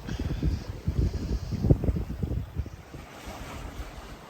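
Waves slap and rush against a sailboat slowed by a current in a sea channel off the Greek coast, a close, choppy wash of water with wind buffeting the microphone.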